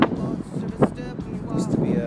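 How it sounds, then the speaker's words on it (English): Wind buffets the microphone outdoors in a parking lot beside an industrial arts building, a steady rumbling gust with sharp bursts, under someone speaking. "It's kind of windy out here"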